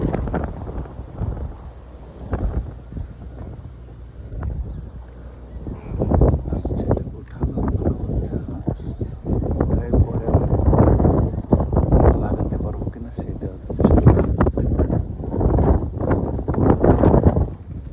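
Strong gusts hit the microphone outdoors during work on a car's MAP sensor, a loud, low, irregular buffeting that swells and fades over time, with a voice faintly present at moments.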